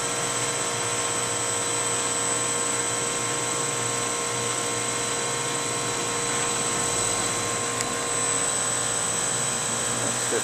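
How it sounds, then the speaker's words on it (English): Steady mechanical drone of a compressor running on a 2004 Carrier Aquasnap 35-ton air-cooled chiller, with a constant whine and hum heard up close and unchanging throughout. "You can hear that compressor on."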